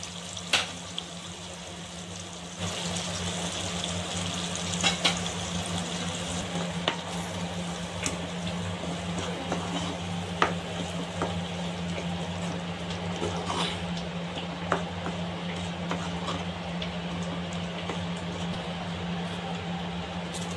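Masala of turmeric, coriander powder and chilli powder fries in oil in a pan, a steady soft sizzle with scattered small pops and occasional stirring clicks, no voices.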